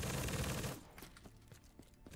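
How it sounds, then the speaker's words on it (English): Death Machine minigun in a Black Ops 3 zombies mod, a loud dense burst of rapid fire that cuts off under a second in, followed by scattered quieter shots and game noise. "Bro, look at this death machine."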